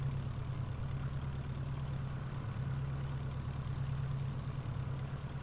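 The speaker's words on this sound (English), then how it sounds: "hear that sound, that engine sounds awesome too" Steady engine drone of a Piper PA28R Arrow in Microsoft Flight Simulator, a constant low hum with a firm tonal note throughout and no talk.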